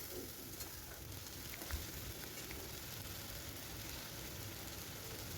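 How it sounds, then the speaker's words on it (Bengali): A ginger, garlic and green chilli paste cooks in a pan with a little water, giving a faint, even sizzling hiss with a few soft stirring touches, quiet and steady with no voices. "এই আদা রসুনটা এবারে খুব ভালো করে কিন্তু কষিয়ে নিতে হবে।"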